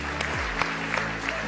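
Hundreds of people in an audience give a standing ovation at an art auction: dense, continuous clapping with sharp claps standing out, and a low hum underneath.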